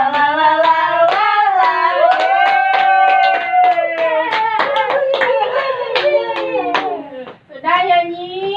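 A class of children in an Indonesian classroom sings a song and claps along in a steady rhythm, the sharp hand claps sounding close and loud and cutting through the voices throughout.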